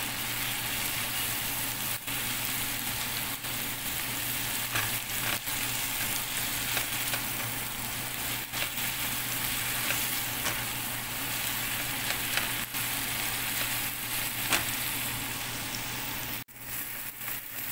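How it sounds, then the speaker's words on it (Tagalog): Tomato sautés in a hot pan with a continuous close sizzle and crackle, steady throughout with faint stirring scrapes. "nagisa na natin yung tomato"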